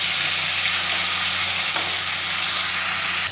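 Potatoes fry in hot oil for an aloo bhaja, giving a loud, steady, continuous sizzle with no pauses and no voices.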